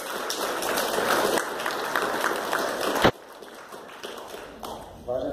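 Conference audience applauding in a hall, a dense, steady wash of clapping for about three seconds that ends abruptly, followed by quieter room noise and scattered sounds.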